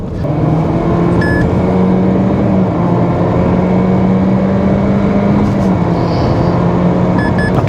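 A Honda Civic FE accelerates hard from 80 to 120 km/h in an overtaking run, its engine drone rising steadily under loud road and wind noise inside the cabin, with a few faint electronic beeps.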